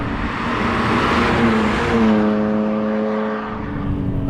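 A BMW E46 M3's straight-six engine and exhaust drone loudly and steadily from inside or near the car, with the pitch climbing smoothly under acceleration for several seconds before easing slightly.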